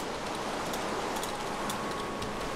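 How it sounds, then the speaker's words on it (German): Steady rain falls in the forest survival game Life in the Woods, a continuous hiss of dense drops on the ground that stays even and unbroken from start to finish. "Ich weiß gar nicht, regnet das jetzt bei den anderen auch oder regnet es so bei mir?"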